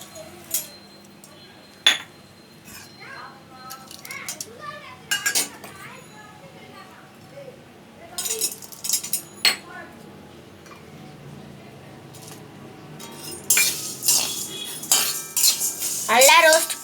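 A metal utensil stirring dry ginger and coriander spices roasting in a pan gives intermittent scrapes and sharp clinks, growing busier and louder toward the end, with a voice talking in between.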